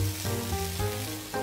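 Mushrooms stir-fried in a wok give a close, steady sizzle, with a few soft rhythmic shifts as the pieces are tossed and turned over the heat.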